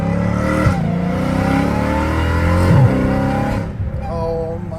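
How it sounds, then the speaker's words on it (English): A car engine revving between about 2,000 and 3,000 RPM, a steady intake whine riding over the engine drone, with rev swells near the start and middle before settling lower at the end. "Now I hear the whine, dude, within 3K RPMs, 2K"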